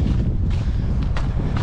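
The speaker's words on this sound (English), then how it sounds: "It's windy" Wind buffets a microphone outdoors near a river, a steady low rumbling roar with no break.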